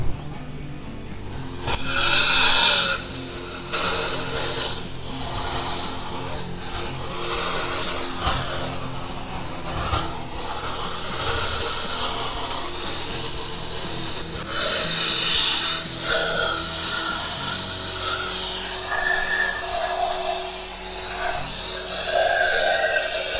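A steady, loud whirring hum of a vacuum cleaner running close by while cleaning a desktop computer's case fans, with shifting whine as the nozzle moves around.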